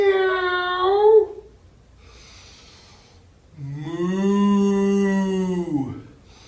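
Voices imitate a cow's moo as part of a children's yoga stretching exercise: two drawn-out, tonal moos, the second lower and longer, separated by a quiet pause.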